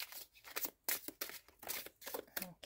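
Tarot cards are shuffled by hand in a quiet room, giving a series of quick, crisp riffling and slapping bursts in an uneven rhythm, close and fairly soft.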